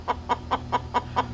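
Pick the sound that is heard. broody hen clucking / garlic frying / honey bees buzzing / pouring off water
broody hen clucking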